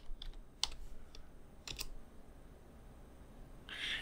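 Keys click on a computer keyboard as a short command is typed into a Windows command prompt. Soft, close taps come in a quick cluster, then a pause, then a brighter final keystroke.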